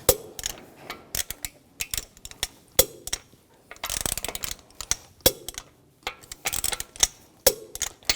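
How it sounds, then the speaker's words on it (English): Torque wrench tightening lug bolts in a cross pattern on the front wheel of a 2004-2009 Audi A4 Quattro. Sharp ratcheting clicks come in quick, irregular bursts, close up and alone. "Now I'm going to torque the lug bolts to 90 foot-pounds in a cross pattern to tighten the wheel down"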